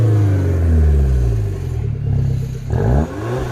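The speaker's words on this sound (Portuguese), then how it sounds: "saca só essa nave DS4, recebeu difusor de escapamento" A Citroën DS4 with a THP engine, an exhaust diffuser and a special exhaust setup revs up loudly close by, its throaty exhaust rising and falling through a few blips, then dropping back toward idle.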